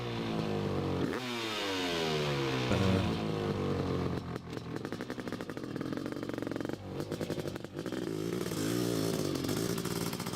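A Honda two-stroke motorcycle engine runs close by, revving up and down with rising and falling pitch sweeps, then a buzzy, rattling idle, loud and continuous throughout.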